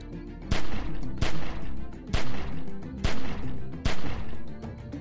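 Gunshots in The Walking Dead: 400 Days video game, about seven loud sharp reports fired in irregular pairs and singles, each trailing into a short echoing decay over a low steady rumble.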